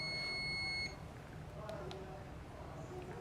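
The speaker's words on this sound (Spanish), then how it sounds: "Suena el buzzer del equipo." A FLIR multimeter with thermal imaging sounds its continuity-test buzzer: a steady high-pitched electronic tone lasting under a second, then cutting off into quiet room background.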